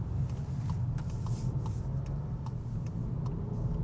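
Volkswagen Golf with its top-of-the-range engine under throttle, giving a steady, dense low rumble with faint light ticks scattered over it and no clear rise in pitch.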